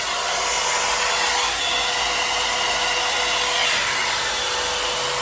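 A Tosage hair dryer brush runs on its high heat setting, giving a steady, loud, continuous blowing whir that holds level throughout with no talking.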